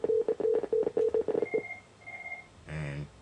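Telephone keypad tones dialing an extension on a VoIP phone system: a quick run of about nine short, evenly spaced beeps, followed by a brief quieter tone and a short ringback-like burst.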